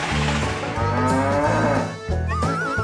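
Cows moo loudly and close by, several long drawn-out calls following one another with brief gaps between them and no talking.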